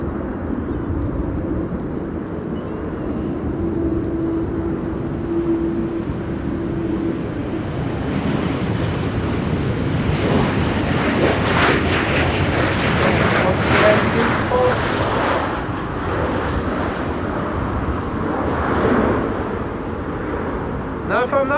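A King Air twin-turboprop arriving at Amsterdam Schiphol Airport in high winds, its steady engine drone rising and swelling toward the middle before easing off, set against broad wind noise, with no talk.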